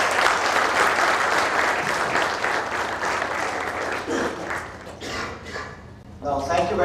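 Loud audience applause at a corporate leadership talk, sustained for several seconds before thinning out, then a voice begins speaking near the end.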